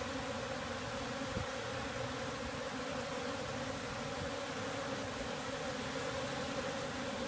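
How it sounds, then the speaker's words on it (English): A live honey bee swarm hums in a thick, constant buzz with hissy background noise, steady and fairly quiet throughout, no voices. "these bees seem to be doing their job just fine"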